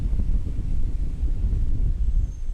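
A strong gust of wind buffets the microphone at an outdoor Intercounty Baseball League game in Hamilton, a steady loud low rumble that fills the whole moment.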